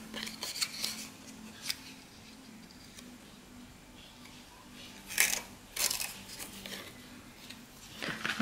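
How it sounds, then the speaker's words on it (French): Scissors snip ribbon at an angle during scrapbooking craft work, giving a few sharp, close cuts in short clusters against a quiet room. "je le recoupe en biais"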